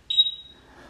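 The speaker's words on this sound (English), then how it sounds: "That I know for sure is beeping because that's the smoke detector." A single loud, piercing high-pitched beep from a smoke detector, short and then fading into quiet.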